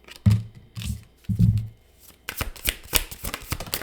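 Tarot deck shuffled by hand, close and crisp: three short riffle bursts followed by a longer run of rapid card flutter and snapping.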